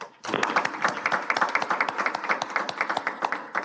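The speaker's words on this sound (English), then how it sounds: "we don't have much clapping going on lately" A small group claps at a city council meeting in Davenport, a close burst of applause that starts abruptly and continues with uneven, fading hand claps.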